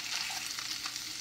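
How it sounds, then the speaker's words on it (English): A brief burst of steady frying hiss as salmon sears in a pan, close and continuous. "Sear it up."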